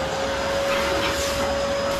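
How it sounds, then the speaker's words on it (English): A vacuum cleaner runs steadily and close by, sucking ash and debris out of a stripped-down Mendip Churchill wood stove with its bricks removed, a constant whine with a tonal hum throughout. "Let's give it a vacuum off."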